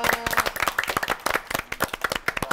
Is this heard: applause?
yes